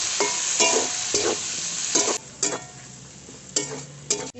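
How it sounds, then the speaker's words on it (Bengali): Chopped onion, tomato and chili fry in a hot pan with bay leaves for a village-style Bengali dish, giving a steady loud sizzle broken by several bursts of stirring and scraping, with no talking. "পেঁয়াজ টমেটোটা হালকা ভাজা হয়ে গেছে"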